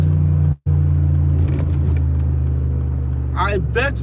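A 2017 Mercedes-Benz G63 wagon drives with a deep, steady engine drone running through the whole stretch, broken by a split-second dropout near the start, while a voice speaks over it toward the end.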